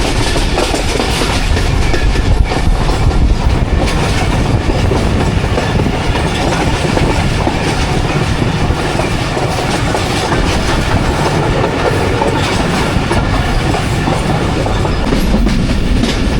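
The Jaffar Express runs on rails through hilly country between Attock and Rawalpindi, approaching a tunnel, giving a loud, continuous rumble and rattle of wheels and carriages with steady clickety-clack and no voices.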